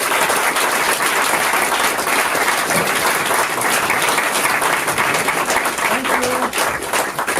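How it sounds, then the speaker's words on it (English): An audience at a bookstore author event bursts into loud, sustained applause welcoming speakers, dense clapping filling the room throughout. "please join me in welcoming to Politics and Prose, Steve Inskeep and Jonathan Capehart."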